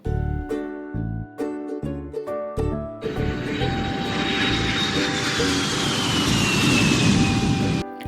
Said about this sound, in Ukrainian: Звичайно, це літак.